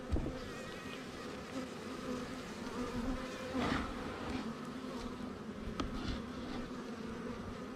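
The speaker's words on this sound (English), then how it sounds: "this medium honey super, which is full of bees and full of honey" A dense, steady buzzing of many honey bees close by from a medium honey super full of bees and honey, continuous throughout with slight swells in intensity.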